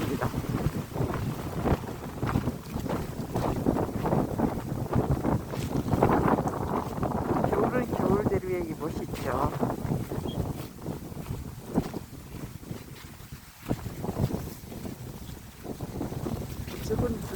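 Strong wind gusts across a frozen reservoir in winter, buffeting the microphone with a loud, continuous roar that swells and eases.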